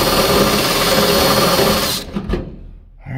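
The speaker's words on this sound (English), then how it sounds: "see if I can get drilled through this and make a halfway decent hole." A power drill bores a hole through a wooden purlin inside a farm barn, the loud steady motor whine running continuously for two seconds before stopping abruptly and trailing off into near silence.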